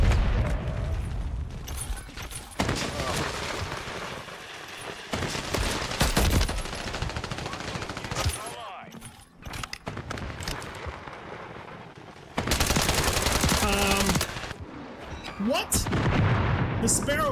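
Call of Duty MWIII gunfire crackles in repeated dense bursts and bangs, loud and close, with brief gaps between volleys while players talk over the shooting.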